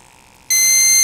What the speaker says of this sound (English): it's flashing, making a really annoying beeping sound